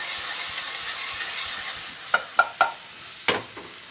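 Onion sizzles in a hot pan, a quiet steady frying hiss punctuated near the end by a few sharp taps and scrapes of a utensil, close by with no talking.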